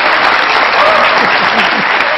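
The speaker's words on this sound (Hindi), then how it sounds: "अच्छा अली आपने बड़ी दिल खोल के ताली बजाई" Talk show studio audience bursting into loud, dense applause, a close sustained wash of many hands clapping with faint vocal sounds mixed in.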